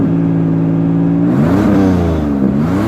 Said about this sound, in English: I'll give it just a little bit of a rev so you can hear the blow-off valve.